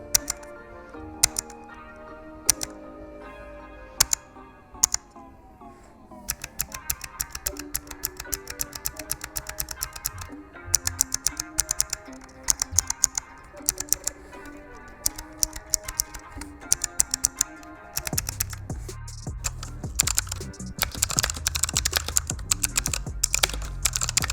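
Typing on a Razer Huntsman optical mechanical gaming keyboard, a steady stream of crisp close clicks, sparse at first and then dense and rapid, with music playing underneath.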